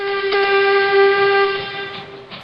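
A loud, sustained shrill steam train whistle blows steadily for a couple of seconds, close and piercing, with a faint rumble beneath.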